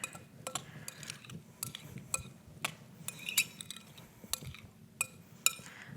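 Salt and seasoning being mixed in a bowl for mahi-mahi tacos, with light, irregular clinks of utensil against the bowl and soft scraping, sparse and close, with no talking.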